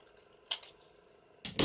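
Scissors snipping a paper craft embellishment, two quick pairs of crisp cuts separated by a short pause, close and quiet with no talk.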